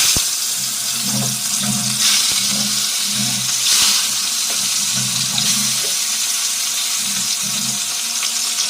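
Tap water runs steadily into a kitchen sink while potatoes and onions are washed, a continuous splashing stream with occasional clunks and shifts, close and fairly loud with no talking.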